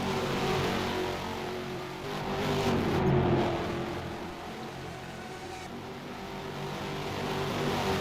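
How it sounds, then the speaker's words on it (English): Two GTS race car engines drone together down a front straightaway in a racing game mod at the Tarumã circuit, a steady close roar that swells and eases as they run side by side. "The 2 GTS car engines synchronizing as they make their way down the front straightaway."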